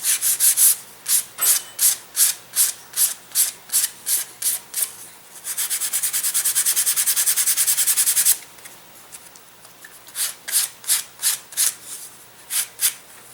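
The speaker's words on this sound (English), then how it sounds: "I'm going to sand off the leading edge to a bevel on the top, just like we did with the wing." Sandpaper rubs a bevel onto the leading edge of a balsa wood rudder for an elastic-launched glider, in quick rhythmic strokes, then one long continuous scrub, then more spaced strokes, close and crisp.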